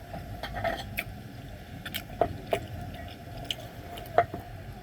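Soft, wet chewing of a large, chewy, sticky snack close to the microphone, with irregular squishy smacks and clicks over a faint background hiss.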